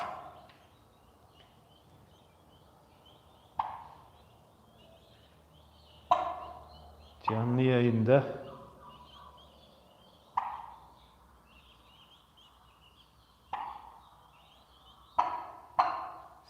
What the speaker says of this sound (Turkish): sizlere hindilerimizi izlettiriyorum arkadaşlar